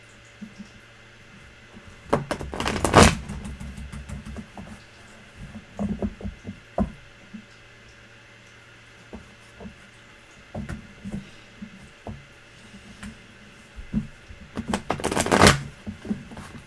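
Tarot cards are shuffled in two loud, close bursts of rapid riffling, one early and one near the end, with softer scattered card handling and taps in between and no talking.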